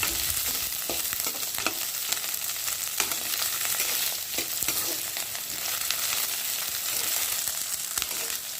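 Ivy gourd (kovakkai) fries in a pan with a constant bright sizzle, broken by sharp clicks of a spatula scraping and stirring at irregular intervals.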